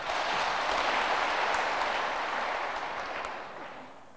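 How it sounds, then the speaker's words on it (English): A congregation in a cathedral gives a burst of steady applause that fills the space and slowly fades away over a few seconds. "Give them a clap."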